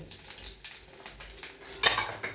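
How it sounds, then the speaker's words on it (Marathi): Cumin, mustard seeds, asafoetida and turmeric tempering in hot oil in a kadhai give faint crackling pops and a quiet sizzle, punctuated by a brief clatter of a utensil near the end. "फोडणीचं सगळं साहित्य घालून घेते. जिरे, मोहरी, हिंग आणि हळद."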